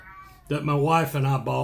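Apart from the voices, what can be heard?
pet cats meowing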